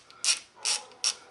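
Small brake screws being snugged up on a 2007 Ford Explorer give three quick, close ratcheting bursts, evenly spaced by short pauses.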